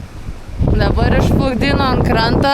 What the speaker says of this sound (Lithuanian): nes pakilo vėjas ir tu nieko nepadarysi